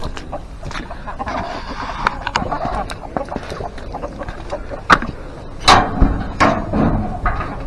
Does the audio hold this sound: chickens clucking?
yes